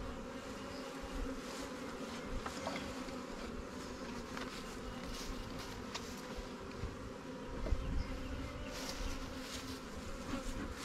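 Honey bee swarm buzzing steadily at a newly hived Langstroth or Warre hive outdoors, a dense continuous drone of many wings holding even loudness throughout with no voices.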